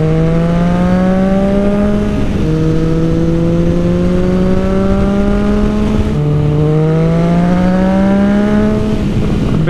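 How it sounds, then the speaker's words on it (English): A motorcycle engine revving steadily while riding on an open road, loud and close, its pitch climbing through the gears with short dips at each shift, over constant wind noise. "Man, the throttle turn on this bike is like so long."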